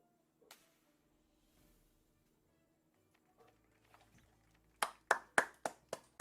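A quick burst of about six sharp claps in the video game Pokémon Violet near the end follows faint scattered taps and low background noise.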